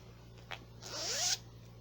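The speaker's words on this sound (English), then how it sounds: "Bright yellow zipper." A clothing zipper on a bright yellow-trimmed pouch zips in one quick close stroke, preceded by a brief tick, against faint background hum.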